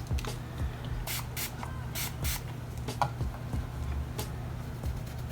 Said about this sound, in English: I recommend the NYX On The Spot Makeup Brush Spray Cleaner.